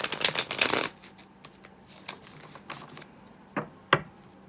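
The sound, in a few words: shuffling tarot cards, Cosmic Slumber Tarot deck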